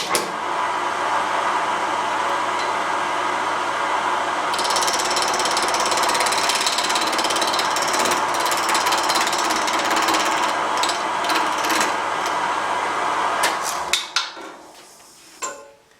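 Wood lathe turning a multicolored wooden ring at 1000 rpm, a loud steady whirring drone with a constant low hum and a gouge's rattling scrape, winding down and stopping near the end.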